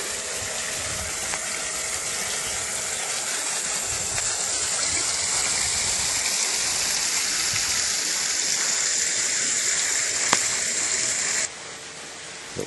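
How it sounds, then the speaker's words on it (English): A backyard swimming pool pump runs continuously, a steady broad rushing whir with a watery hiss, constant in level before dropping off near the end. "The pool pump is the noise that you hear in the background"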